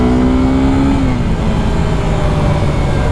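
A Suzuki Gixxer 250SF motorcycle accelerating on a ride: a loud, close engine drone with a droning whine whose pitch shifts as the revs change, continuous throughout.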